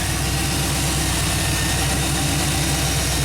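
A classic Chevy engine idles steadily in default timing mode, a continuous close, even rumble with a low rhythmic throb and no talk.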